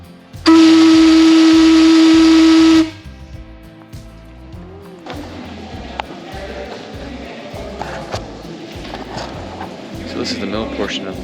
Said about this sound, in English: blowing the shift whistle in 3,